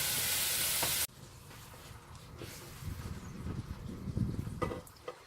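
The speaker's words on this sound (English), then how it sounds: "I'm going to cook off this bacon" Bacon crackles and sizzles steadily in a pan, a loud hiss at first that drops abruptly, then softer popping and spitting with occasional stirring sounds.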